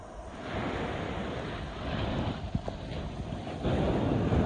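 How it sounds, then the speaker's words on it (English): Ocean waves break on a Puerto Rico beach as a continuous broad wash of surf, with wind buffeting the microphone and the roar building louder near the end. "Catch by these waves."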